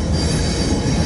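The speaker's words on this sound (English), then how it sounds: "this is a westbound manifest coming into the yard from the window of the museum" A westbound Norfolk Southern manifest freight train rolls into the rail yard at Elkhart, Indiana, heard from inside a museum: a steady, continuous rumble of moving railcars with faint wheel squeal.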